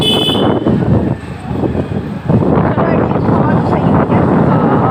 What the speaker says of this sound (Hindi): इस टाइम ठंडी हवा चल रही है